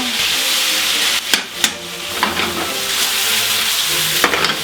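Chicken pieces fry in a hot pan with a loud, bright sizzle as tongs turn them over, leaving several sharp clicks and scrapes against the pan over the steady hiss, with nobody speaking.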